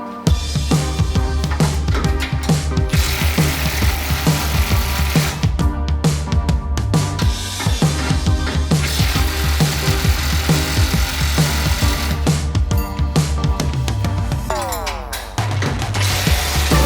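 Power tools work on a Jeep TJ bumper as it is unbolted and rebolted, a continuous dense run of loud, close impact-driver rattling and whirring with brief pauses.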